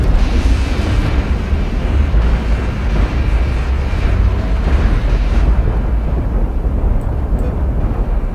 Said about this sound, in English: I do like the explosions though, so they look really good.